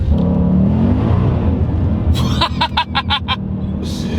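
A supercharged Ford Mustang RTR Spec 5 with a 750 horsepower Ford Performance supercharger roars loudly up close, its engine droning steadily and then breaking into a quick series of sharp revving bursts as the wheels spin.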